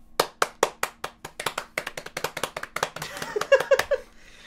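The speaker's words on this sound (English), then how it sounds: "I'm gonna clap for the other camera so that I can sync this later" A run of sharp hand claps made to sync cameras at the start of a live beer tasting stream, about twenty crisp claps in quick irregular rhythm from more than one person, close and loud, with a little overlapping sound near the end.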